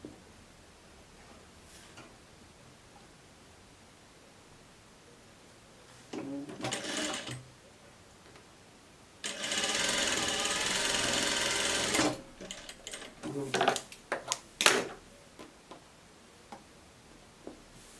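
A sewing machine stitches the shoulder seams of a shirt, first in a short burst and then in a longer steady run of about three seconds, followed by scattered clicks and handling noises against a quiet room.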